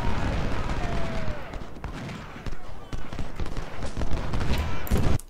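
Massed musket volleys in the Civil War battle game Ultimate General: Civil War at Cold Harbor, a dense crackle of many shots over a continuous battle din, with a voice speaking over it.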